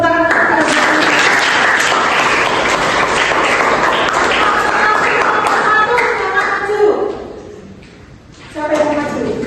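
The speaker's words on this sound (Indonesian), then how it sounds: "Tepuk tangan." A classroom of students applauding together during a group discussion lesson at school: loud, dense clapping for about seven seconds, then fading out into a brief lull before a short burst of clapping returns.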